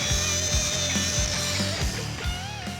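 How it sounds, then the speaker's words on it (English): Wire cup brush spun on a power tool scrubbing surface rust off a junkyard rear axle from a Crown Vic, a steady dense whirring grind with rising and falling pressure, close and loud throughout with no talk. "we'll use our wire cup to get as much of the surface rust off as we can"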